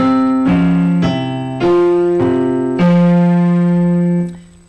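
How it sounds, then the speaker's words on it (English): Final two measures of a piano piece played at a steady tempo and even volume, with a series of sustained chords struck in regular succession before the last one rings out and fades. "So these last two measures, without the diminuendo e ritardando, would sound like this."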